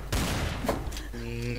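Gunfire in the video game Trouble in Terrorist Town, a quick burst of close sharp shots at the start followed by a short tonal game sound, all within a second and a half.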